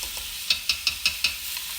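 Minced garlic goes into a hot pan with onions while potatoes are cooked, giving a steady sizzle broken by five evenly spaced sharp scraping stir strokes.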